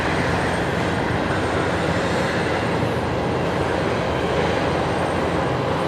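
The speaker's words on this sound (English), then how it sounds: "Oh, Matt, you've got a 320 Neo coming your way." A Jetstar Airbus A320neo at Brisbane Airport, its engines a steady broadband roar that holds loud and even throughout, with no talk.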